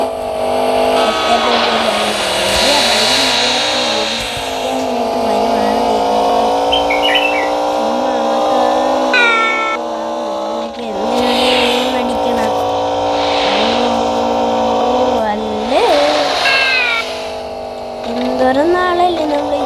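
A Porsche in a video game with lowered suspension, its engine droning and revving up and down with rising and falling pitch, tire squeals at moments, and a person talking over it throughout.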